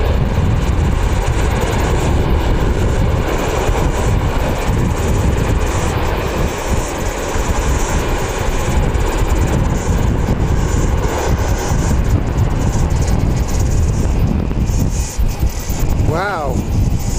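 A Qantas jet thunders down the runway at Wellington Airport on its takeoff roll, a loud, steady roar of engine noise that holds for the whole stretch, with a rising whine near the end.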